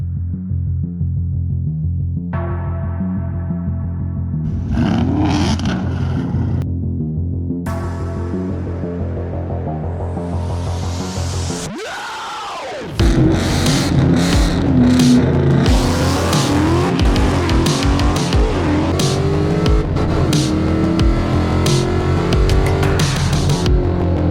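A 1973 Chevrolet Nova with a swapped LS V8 idles with a deep throbbing rumble, then revs hard and roars continuously at full throttle, staying loud and close throughout.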